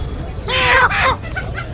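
Chickens cluck loudly in two close bursts at Peruvallur market, with a steady murmur of market noise underneath.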